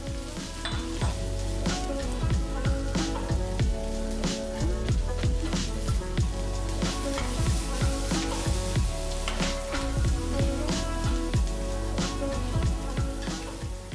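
Szechuan peppercorns and black pepper sizzle steadily in a hot pan with eggplant and mushrooms, a loud, continuous crackling fry with scattered popping spits throughout.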